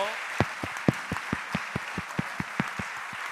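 Church congregation at a late-night Friday prayer service claps in slow, evenly spaced unison beats, distinct and fairly close, with a brief voice at the start.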